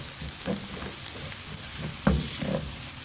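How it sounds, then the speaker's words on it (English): Onion, garlic and ginger fry in a pan with a steady bright sizzle, broken by occasional scrapes and clinks of a stirring utensil, one louder knock near the end. "You fry the onion. For those, you put in the garlic and the ginger."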